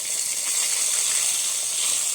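Hot mustard seed tempering poured into a fish curry, a brief, steady sizzling hiss close by with no other sounds.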